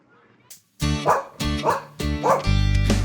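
A dog named Jack barks loudly and close in three or four sharp, harmonic bursts spaced about half a second apart at a smoky campground in Algonquin Park, with a brief quiet patch before the first bark.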